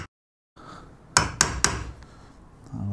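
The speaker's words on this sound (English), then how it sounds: "I'm going to make a number of cuts into the timber" Chisel or hammer striking timber while cutting a door hinge recess: three sharp, close knocks in quick succession after a short silence, followed by faint handling noise.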